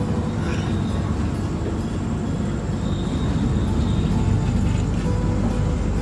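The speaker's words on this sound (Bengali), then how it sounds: "সেটা পুরো ক্রসিং কাটছে ট্রেনটা।" A passenger train rumbles steadily across a level crossing, a loud, continuous low roar with rattling wheel and carriage noise heard close by, no voices.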